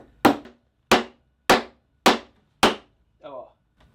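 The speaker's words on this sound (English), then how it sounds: "we have to be really careful when we drive these home" Five loud, evenly spaced hammer blows drive nails into a burnt wood door being built for a medieval-style bushcraft house, each a sharp close crack, followed by a short voice.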